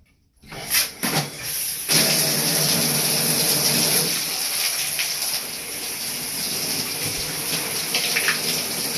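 A tap is turned on and cold water runs strongly and steadily, a loud, close rush with a few bumps and clatters at the start.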